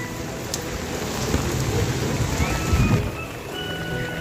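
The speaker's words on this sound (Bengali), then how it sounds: "বৃষ্টি হচ্ছে।" Steady rain falls at a Chinese temple in Genting Highlands, Malaysia, up among drifting clouds, a dense even hiss filling the air with a few louder spatters and a faint voice in the background.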